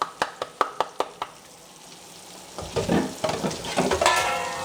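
Onions go into hot oil in a pan for a Greek red prawn saganaki, a row of sharp evenly spaced knocks giving way to a rising, crackling sizzle as they fry up close.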